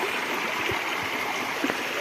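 Floodwater runs through flooded rice fields in the Konkan, a steady rushing flow like a stream with occasional soft gurgles and splashes, moderately close and without voices.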